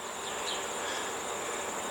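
Honeybees hum in a dense, steady drone close by at a hive entrance, quiet and continuous with no voices.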